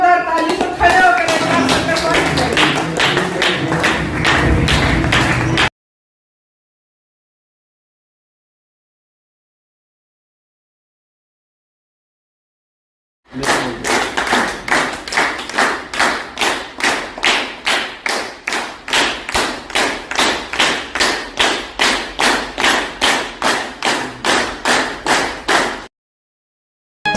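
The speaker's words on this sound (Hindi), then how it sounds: "आपकी जोरदार ताली से खड़े होकर" Audience applause at a celebration in Kurukshetra, loud rhythmic clapping in a fast, even beat that stops, falls silent for several seconds, then starts again and runs on strongly.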